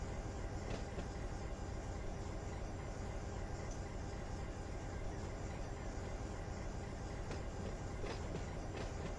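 Locomotives in the Run8 train simulator game rumble as a steady, dense, low broadband drone with faint rail clatter, continuous and unchanging throughout at a low level.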